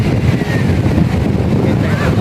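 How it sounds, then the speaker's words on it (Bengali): Strong wind buffets the microphone on Byron Bay beach under an overcast sky with high water, a loud, constant low roar filling the whole stretch without pause. "খুবই বাতাস বিচ পারে"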